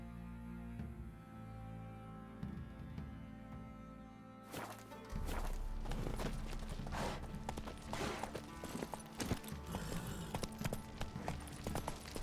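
Roach the horse from The Witcher 3 trots with rapid clip-clop hoofbeats, starting softly under game music, then growing louder and busier with steady galloping thuds once the horse sets off.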